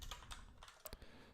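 Someone types on a computer keyboard in a few quick, faint key clicks with short gaps between them, close by and otherwise quiet.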